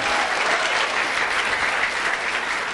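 A church congregation at a revival night claps loudly and continuously, a dense, unbroken roar of hands sustained at even strength throughout the short stretch.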